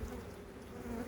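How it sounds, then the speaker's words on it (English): Honeybees buzz around an open hive box with ten frames during a spring check, a steady close drone of many wings, constant throughout and with no talking. "Put them in where there's lots of bee activity, lots of bee traffic."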